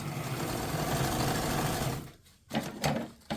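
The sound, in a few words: sewing machine stitching quilt crumb strips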